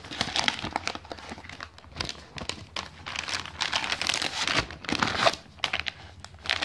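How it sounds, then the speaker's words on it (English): Plastic heat-pack packaging from a Slovenian army combat ration being torn open up close, a stretch of rustling, crinkling and ripping with uneven bursts and no talking. "So let's tear it."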